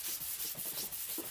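An Infiniti G37 sedan hood is sanded by hand with 80 grit sandpaper, a steady, faint scratchy rubbing in short back-and-forth strokes.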